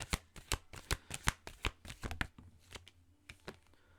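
Oracle cards being shuffled by hand in a run of crisp, evenly spaced flicks and slaps, close and quiet, slowing into a few sparser taps.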